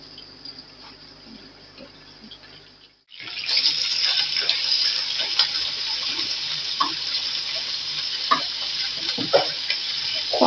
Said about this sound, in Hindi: हमने ऑयल ले लिया, इसमें हम डाल लेंगे चिकन, छोटे छोटे पीसेस करके डाल दूँगी।